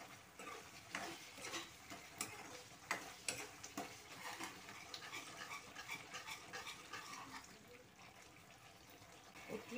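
Egg curry being stirred in a pan, a soft continuous scraping and faint sizzle with irregular light clinks, quiet and close throughout.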